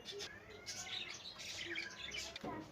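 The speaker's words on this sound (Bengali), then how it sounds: "দেখো কত মিষ্টি মিষ্টি পাখি" Small caged birds chirping and squawking in a busy, continuous chatter of overlapping high calls, close by and fairly loud throughout.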